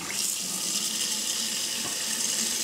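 A garbage disposal churning with water running through it, a steady rushing wash of water over a low mechanical hum, fairly quiet and continuous with no talking.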